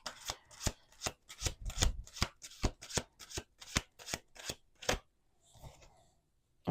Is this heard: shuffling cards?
yes